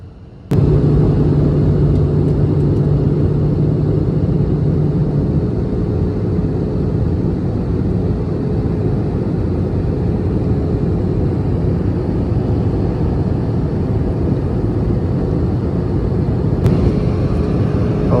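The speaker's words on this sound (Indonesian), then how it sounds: "sebentar lagi kita akan landing di Bandara Soekarno-Hatta" Airliner cabin noise during the descent into Soekarno-Hatta Airport: a loud, unbroken low engine and air roar that holds level throughout, with no talk.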